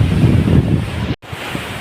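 Sea waves washing onto a beach on an outing: a loud, continuous rush of surf with heavy wind buffeting the microphone, broken by a brief dropout, no voices.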